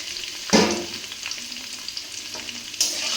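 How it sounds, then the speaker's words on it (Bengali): Onions frying in hot oil seasoned with panch phoron, a loud burst of sizzle as they hit the pan, then a continuous crackling hiss with scraping stirs and a second flare near the end. "আর পেঁয়াজগুলোকে ভেজে নিতে হবে।"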